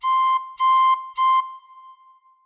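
Three firm, clear tin whistle notes, blown harder with all six holes covered, each held about a third of a second with short gaps, loud and close, ringing on briefly after the last.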